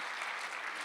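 Church congregation at a Korean Sunday worship service breaks into applause, a brief, fairly faint, even patter of many hands clapping together.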